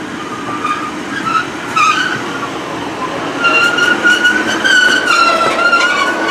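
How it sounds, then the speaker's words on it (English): A Great Western Railway passenger service bound for Weymouth from Gloucester pulls away through Bruton, giving a steady rolling rumble with rising wheel and motor whines and faint squeals, loud and continuous without talk. "coming out is the 1258 Great Western Railway service to Weymouth from Gloucester"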